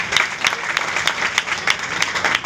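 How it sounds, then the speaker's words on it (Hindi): A rally audience claps to welcome guests, a dense burst of steady applause from a crowd filling the whole stretch, close and loud with no clear voices over it. "मेरठ वाले जगरोशन जी खड़े हो जाओ, जोरदार तालियों से स्वागत करो"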